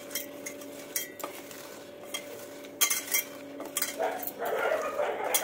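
Banana stem (thor) mashed and squeezed by hand in a home kitchen, giving close, soft wet squelches and clinks of a dish in irregular bursts, louder toward the end, over a steady low hum.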